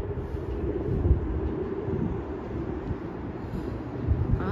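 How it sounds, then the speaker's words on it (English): A train rumbling past at night in Toronto, a steady low heavy roar of rail cars held throughout, fairly near and continuous with no talking. "Oh, I see a train up ahead."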